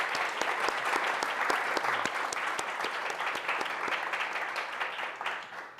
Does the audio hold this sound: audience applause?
yes